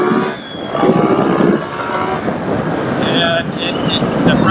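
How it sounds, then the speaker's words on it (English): The engine of a KTM Super Duke 1290 R or Yamaha MT-09 naked motorcycle is revved, its steady loud roar rising and falling against wind buffeting on the microphone. "So here I'll rev it out a little bit."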